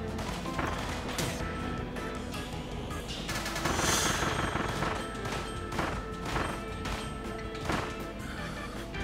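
Rapid shooting and crashing hits during play of Kirby and the Forgotten Land, loud repeated bursts and impacts in an irregular rhythm layered over game music, with no talk.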